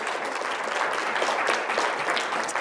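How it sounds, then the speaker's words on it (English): Conference audience applause at closing remarks, a continuous wash of clapping from a sizeable crowd, even in level throughout. "yeah, please clap"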